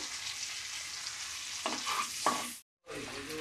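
Bay leaf and garam masala stirred in melting butter, a soft continuous sizzle with a few scraping stirs, briefly cut off near the end before resuming.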